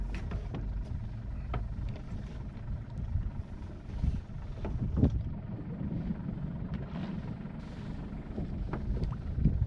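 A sailboat's engine idles steadily at anchor off Majorca, a low rumbling drone with wind buffeting the microphone and occasional splashes and knocks, no voices over it.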